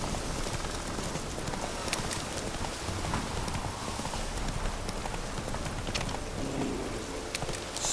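Hooves of Roach, the horse in The Witcher 3, clip-clop steadily through heavy rain, the hiss of the downpour loud and constant throughout.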